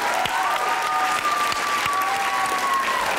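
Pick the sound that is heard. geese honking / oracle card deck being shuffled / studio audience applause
studio audience applause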